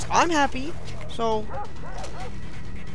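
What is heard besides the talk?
dog in the video game Far Cry 3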